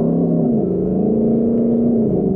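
A car engine held in third gear in manual mode with paddle shifters, a steady, loud drone with a constant pitch that runs the whole time, with no talk.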